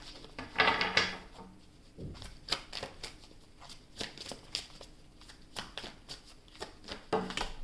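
Tarot cards shuffled in a burst, then drawn and placed one by one in a series of sharp, close snaps and slides over a quiet background.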